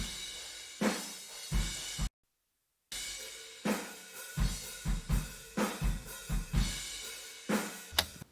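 A drum kit captured by Neumann KM184 room mics about twelve feet back and facing the back walls of a kitchen, with roomy, fairly quiet hits in an irregular groove, a brief dropout, then a steady run of kick and snare strikes.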